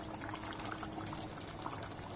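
Water pours steadily into a large cooking pot, a continuous soft splashing and gurgling rush, fairly quiet and unbroken.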